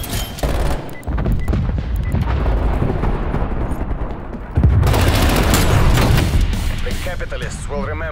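An artillery strike lands in Call of Duty Black Ops Cold War, heavy booming blasts and rumbling impacts rolling on over several seconds, one louder hit midway, with voices talking over it.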